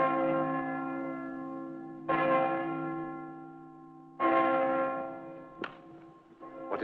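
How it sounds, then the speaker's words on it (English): An old Roman bell rings the hour in three resonant strikes spaced about two seconds apart, each a rich metallic tone that slowly decays, followed by a couple of softer clanks, with no voices. "It's an old Roman bell brought to Britain by the Emperor Claudius. It rings all the canonical hours."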